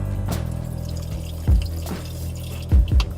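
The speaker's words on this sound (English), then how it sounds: "I'm gonna go ahead and add the vegetable broth." Vegetable broth poured into a pot on a stovetop while making a hearty vegan soup, heard as a steady liquid gush with a few louder splashy surges near the end, alone and close.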